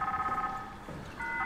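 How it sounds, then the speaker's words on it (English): Emergency phone being dialed in the sci-fi horror video game SOMA, steady electronic dial tones holding on and then resuming after a short gap, loud and close with no talking. "It's an emergency phone."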